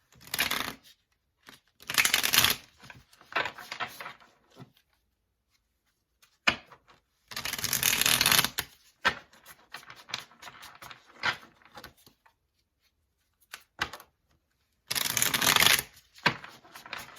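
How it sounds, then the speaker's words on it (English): Muse Tarot cards are shuffled by hand in several loud, dense bursts of riffling and patting, separated by short pauses and softer scattered card handling, with no talk. "So let's get some tarot for the feminines, okay? And we're going to be using the Muse Tarot by Chris Ann"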